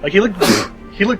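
A single sharp sneeze bursts out mid-conversation, set between stretches of casual talk from people nearby.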